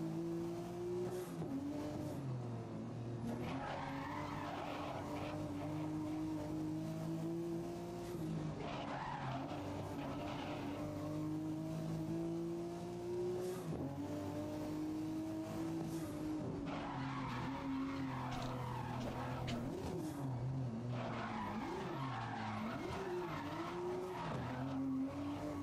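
Nissan Skyline GT-R racing through a ten-lap event in the video game GRID, engine droning steadily with shifting pitch and repeated tire skids and squeals through corners, loud and continuous throughout.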